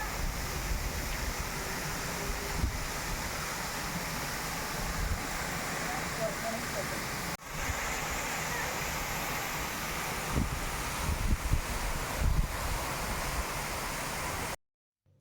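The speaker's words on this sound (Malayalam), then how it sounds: "ഇത് പോകുന്ന വഴിയിൽ കണ്ടൊരു വെള്ളച്ചാട്ടമാണ്." A roadside waterfall in Bhutan roars as a dense, continuous rush of water, steady and fairly loud for the whole stretch, mixed with some wind buffeting on the microphone.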